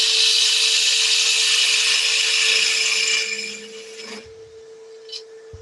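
A wood lathe cuts a tenon on a fairly large lump of wood, the tool's scraping hiss loud and steady over a constant motor hum, then the cutting stops and the motor keeps droning quietly alone.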